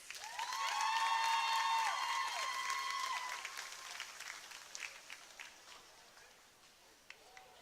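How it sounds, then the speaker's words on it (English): Applause and cheering from a crowd at a high school football senior night at Longview Memorial Stadium, swelling loud at the start with whistles and voices, then thinning and fading over several seconds. "To all of our seniors, everyone give a big round of applause."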